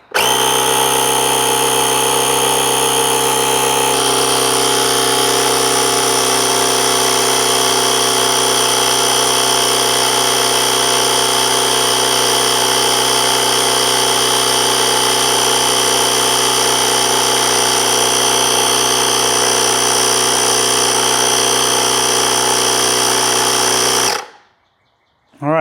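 Asperx portable air compressor, part of a 3000A jump starter, inflating a bicycle tire to 30 PSI: a loud, steady motor drone with a slight shift early on, running continuously for about 24 seconds before cutting off abruptly.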